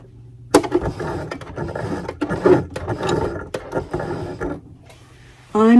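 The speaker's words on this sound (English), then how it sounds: "I'm using a Singer heavy duty machine." A Singer heavy duty sewing machine stitches fabric in an uneven mechanical clatter of ratcheting ticks, close by, with a short pause near the end before a louder burst.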